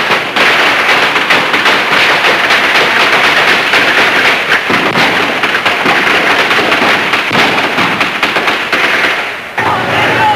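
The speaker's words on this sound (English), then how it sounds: "Gunfire from the house at the time." Dense, rapid gunfire crackles nonstop at close range from a house during a police siege, loud bursts running together for several seconds before a brief drop.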